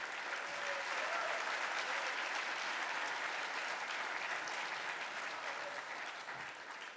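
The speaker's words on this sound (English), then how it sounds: "Please join me in a final round of applause for Mr. Art Pope," Dinner audience applauding, dense sustained clapping from a large room that stays steady and then begins to taper off at the end.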